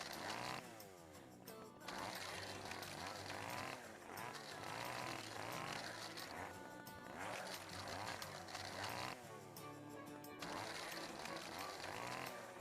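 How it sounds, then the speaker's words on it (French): A Sim runs a chainsaw while carving a sculpture in The Sims pet-stories game, a loud continuous buzzing whine that holds steady for the whole stretch, with brief dips and surges in pitch. "c'est la première fois que je vois un sim avec une tronçonneuse"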